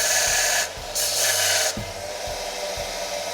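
A belt grinder's motor, fed reduced voltage through an old variac, hums steadily with a low drone, the sound shifting in bursts as it runs at lowered power.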